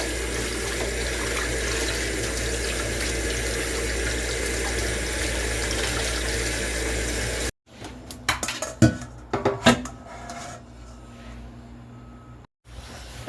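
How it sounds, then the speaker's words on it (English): Cold water runs steadily from a kitchen tap over steak pieces in a strainer, a loud continuous rush that cuts off halfway, followed by clattering handling of the strainer and scattered drips and knocks. "And turn on some cold water. And, rinse that off."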